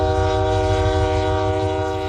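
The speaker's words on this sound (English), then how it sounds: "There still is space available on the train." A passenger train sounds its horn in a loud, sustained multi-tone blast over the low rumble of the moving rail cars, close and unbroken for the whole stretch.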